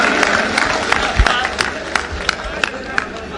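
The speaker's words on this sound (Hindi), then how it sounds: "जोरदार ताली, जोरदार ताली।" A lecture audience gives loud, rhythmic applause, with crowd noise in the hall and voices mixed in.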